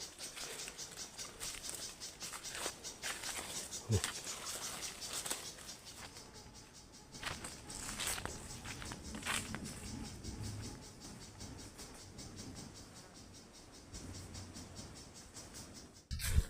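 Steady soft patter of rain falling, a dense continuous hiss of drops with faint scattered ticks, moderately quiet throughout.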